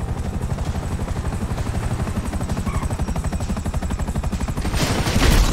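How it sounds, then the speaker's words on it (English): Helicopter in the GTA V video game, a loud, steady throbbing rotor pulse running throughout with rapid bursts of gunfire mixed in, swelling slightly toward the end. "Another chopper!"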